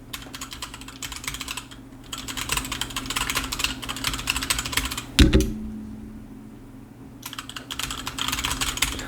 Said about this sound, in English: Here's a quick sound test of what they sound like when you're actually typing.